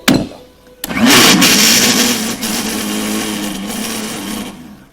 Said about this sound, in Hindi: और इसको डाल दिया ऐसे मिक्सी में और ऐसे डाल करके और फिर इसको घुमा दिया